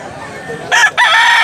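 A Doctor Blues bloodline rooster from Cebu gives one loud crow, split into a short opening burst and a longer held call, rising over a quieter stretch of background noise with no talk.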